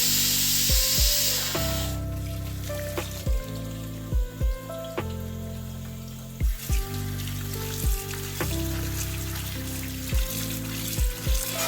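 Cut beans are rinsed under running water, a hissing, spraying stream that gushes on and off, with a melodic tune playing along underneath.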